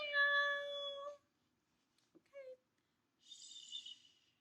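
Cat meowing close by, a clear drawn-out harmonic meow followed by a short chirp and a higher, thinner cry after a pause, each alone in a quiet room.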